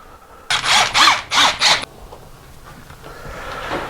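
A power drill drives screws into a board for a custom shower curb, with four quick loud whirring bursts in a row, close up, followed by quiet room noise.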